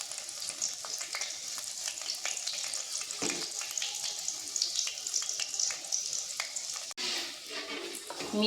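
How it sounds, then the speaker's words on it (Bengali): Jalebi fry in hot oil over medium heat, a steady close bubbling sizzle with small crackles and faint stirring scrapes, briefly interrupted near the end, and no talk. "মিডিয়াম আঁচে জিলিপিগুলো ভেজে নেব"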